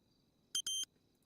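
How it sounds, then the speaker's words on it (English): A small electronic device gives three short, high beeps in quick succession against a quiet background, then falls silent. "What's that little beep?"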